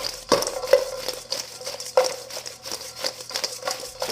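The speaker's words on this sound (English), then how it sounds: "A couple dollops of garlic butter on the fries. And now just start mixing it all around." Fries are tossed and stirred with dollops of garlic butter in a bowl, giving close, soft scraping and clinking utensil sounds in irregular strokes with occasional sharper taps.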